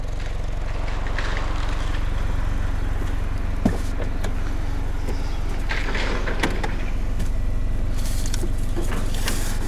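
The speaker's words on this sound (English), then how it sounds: "we have the 2021 Jaguar F-Type. This one is the 4-cylinder version, but you can hear it still sounds good." A 2021 Jaguar F-Type P300 convertible with a 4-cylinder engine idles with a steady, loud, close low rumble, while faint clicks and rustles sound over the top.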